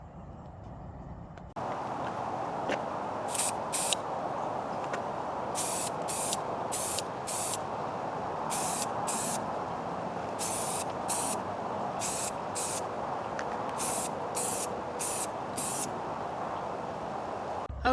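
A can of Behr spray paint hisses in a continuous, steady spray that starts abruptly and runs on for many seconds at close range, with short clicking bursts scattered over the top.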